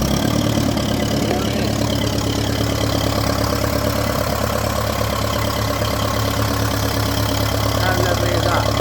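A 1951 Ferguson TED20 tractor engine idles steadily after starting, a continuous low chugging rumble that holds even and fairly loud throughout with no voices over it.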